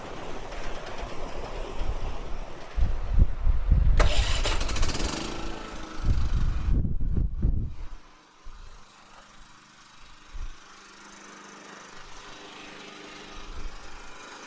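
A Champion 3400 generator runs nearby, a loud rough engine roar for several seconds that then settles into a quieter steady idle hum.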